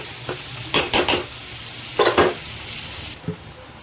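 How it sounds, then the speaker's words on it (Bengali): Mutton brain frying with spices and a little water is stirred in a pan, with several bursts of scraping and clinking over a soft continuous sizzle. "একটু ভালো করে কষিয়ে নেব।"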